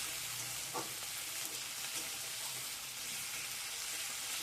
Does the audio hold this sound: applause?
no